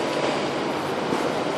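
Broad, steady rumble and hiss of a train at Breda railway station in the Netherlands, a continuous loud wash of noise with no clear breaks and no voices.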